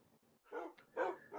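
Two dogs in Minecraft bark in a quick series of about three close, moderately loud barks, preceded by a couple of softer yips.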